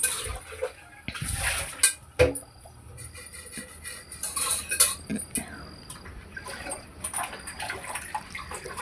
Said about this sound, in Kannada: ಪಾತ್ರೆ ಏನು ಭಾಳ ಇರಲಿಲ್ಲ ಹಾಗೆ ವಾಶ್ ಮಾಡಿ ಇಟ್ಬಿಡೋಣ